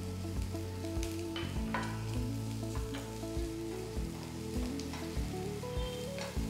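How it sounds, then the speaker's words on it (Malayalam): Long-cut green beans sautéing in a pan for a vegetable sandwich filling, a soft steady sizzle broken by repeated spatula stirs and knocks against the pan, no voices. "ബീൻസ് ഇട്ട് ഒരു മിനിറ്റോളം ഞാൻ വഴറ്റിയ ശേഷം ഇതിനകത്തേക്ക് ക്യാരറ്റ് ചേർക്കാം"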